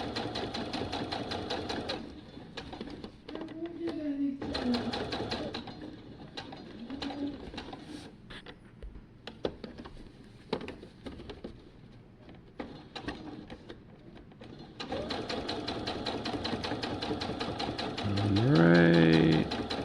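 A sewing machine stitches shut crotch snaps in rapid bursts of mechanical whirring and tapping, pausing between runs, with pigeons cooing faintly in the background.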